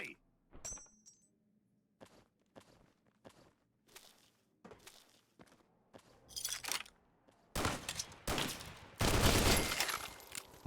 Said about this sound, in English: Definitely how you use a submachine gun.